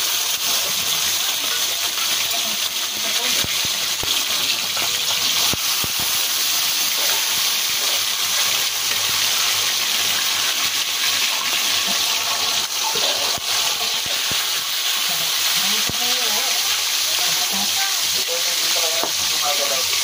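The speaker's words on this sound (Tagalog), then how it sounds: "Ngayon nilagyan na natin ng buhos para hindi dumikit." Liquid is poured into a hot frying pan (kawali) so the food won't stick, setting off a loud, steady sizzle and hiss of steam that holds without pause, with no talking.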